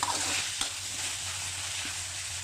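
Pork belly stir-fried with kaffir lime leaves in a pan, a steady close sizzle with faint scraping of the spatula and one brief clink near the start.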